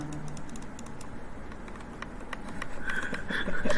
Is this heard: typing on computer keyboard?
yes